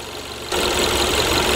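A Kia Soul engine idles roughly with a misfire, its stumbling rumble starting abruptly partway through and running steady and close, with no voices.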